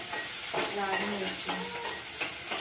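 Onions sizzle in a hot pan while a spoon stirs them, giving soft scraping strokes over a steady frying hiss, close up.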